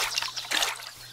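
Soft trickling and dripping water patters in short irregular splashes in the Craft the World game, faint and brief, heard alone without voices.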